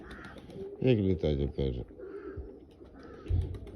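Someone speaks briefly while a pigeon coos nearby, soft low throaty calls repeating a few times under and between the words.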